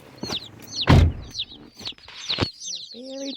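Young chicks peep in quick, high chirps, several overlapping close by, with handling noises and brief thumps among them.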